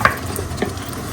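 Tomatoes stirred in a pan that holds fried fish head with a sour dish, a soft scrape and low sizzle rising briefly over a steady frying hiss, close and fairly quiet.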